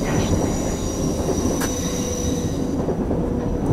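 A London Underground train runs in a train simulator game, a steady rolling rumble with faint rail noise and a brief high click partway through, close and continuous with no voices.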